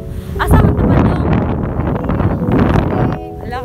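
Strong outdoor wind buffets the microphone at night in a loud, gusty roar that fills most of the stretch, with a person talking over it.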